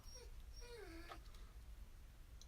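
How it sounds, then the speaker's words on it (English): A dog wanting to chase deer whines in a few faint, high, wavering whimpers early on, over a low steady rumble. "The dog is still whining."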